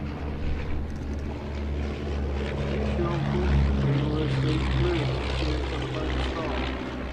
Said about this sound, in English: That engine developed 130 horsepower, gypsy motor, top speed of 140 miles an hour